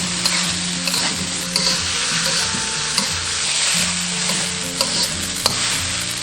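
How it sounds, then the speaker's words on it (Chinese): Soaked glutinous rice being stir-fried in a wok with green peas, diced carrot and corn kernels after a splash of cooking wine, with a steady loud sizzle and repeated scraping strokes of the spatula, no voices. "加入泡好的糯米，先把所有的食材翻炒均匀"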